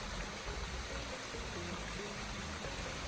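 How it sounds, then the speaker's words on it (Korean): A mountain valley stream flows along a walking trail in the Seorak mountains, a steady, dense rushing and gurgling of water that stays even throughout, with no voices. "걷기에 편안하고 계곡에서는 물소리를 들을 수도 있죠."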